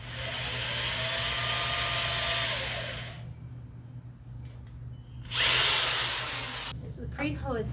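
A power drill bores into a truck bed camper cabinet: a loud whirring burst for about three seconds, a quiet pause, then a shorter high-pitched spin-up and a few brief final whirs.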